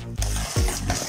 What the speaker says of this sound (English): Now that the eggs and vanilla are in, let's give it a stir